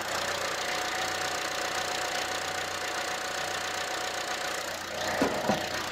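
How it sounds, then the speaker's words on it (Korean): A gasoline turbo SUV engine, a Chevrolet Trax, idles close by with the engine bay open, an even mechanical hum and faint ticking, a couple of soft thumps near the end. "가솔린 SUV가 내고 있는 그냥 그 특유의 엔진 소음이 있어요."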